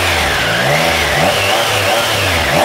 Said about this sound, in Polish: Nie będę tu jakoś specjalnie długo hałasował, ale kilka przegazówek